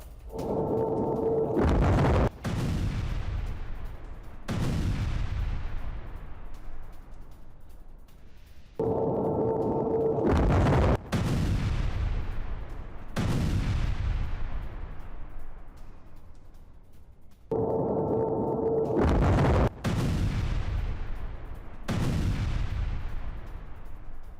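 Heavy blasts from a Russian air strike in Ukraine recur at intervals, each a loud deep boom that decays slowly over several seconds, with a few sharper cracks in between.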